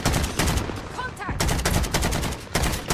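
Rapid automatic gunfire in a Call of Duty Warzone team deathmatch on Caldera, loud bursts with a brief gap in the middle, then more sustained firing.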